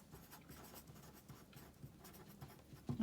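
A sharp pencil scratches steady lines across paper while drawing a triangle, a faint continuous scraping texture with small strokes and a slight bump at the end.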